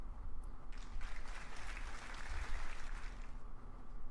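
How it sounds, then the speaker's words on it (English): A crowd breaks into applause in the Cinderella Phenomenon visual novel game, a soft, distant swell of clapping that rises and fades over a few seconds beneath a low steady hum. "the crowd breaks into applause"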